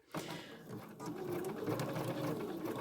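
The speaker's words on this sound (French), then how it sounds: "On vient coudre sa ceinture." A sewing machine runs steadily while stitching a waistband on a garment with an invisible zip, a close, continuous whirring hum with rapid needle ticking throughout.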